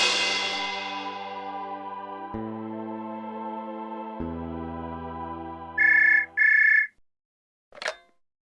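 A phone rings with a sustained electronic tone that steps down in pitch, followed by two short beeps and a brief click, clear and close with no voices.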